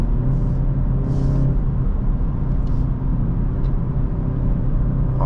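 A 2024 BMW 330i xDrive accelerates hard with a loud, steady engine drone heard from inside the cabin. A few brief shifts break the pull, and no one speaks.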